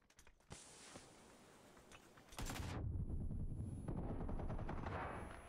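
Automatic gunfire in PUBG, loud rapid bursts that swell into sustained, dense firing, heard without talk.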